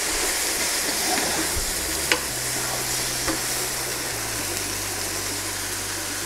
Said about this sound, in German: Denn ich brate jetzt das Gemüse erstmal so ein bisschen an,